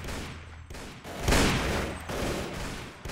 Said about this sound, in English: And I'll just keep firing from the distance.